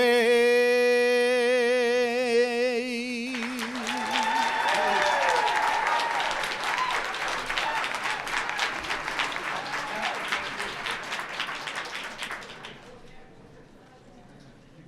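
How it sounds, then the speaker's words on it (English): Applause following a national anthem performance at an opening program, the sung final note fading before a crowd breaks into broad, steady clapping that gradually thins and dies away toward the end. "Let's give another round of applause to Bruce Bailey for that terrific performance"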